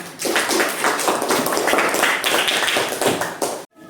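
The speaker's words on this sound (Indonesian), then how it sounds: "Kita tepuk tangan dulu untuk semua." Classroom applause for students after their project presentations, a dense, steady burst of many hands clapping at close range that stops abruptly near the end.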